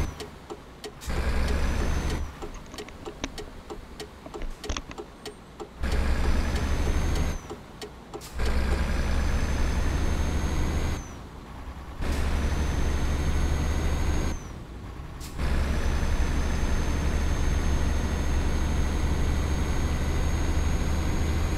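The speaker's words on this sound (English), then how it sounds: "I do believe this is a default engine in this Mercedes" Default engine of a Mercedes truck in Euro Truck Simulator 2, a steady loud low drone that runs throughout, broken by several brief dropouts and shifts in level, with no talking.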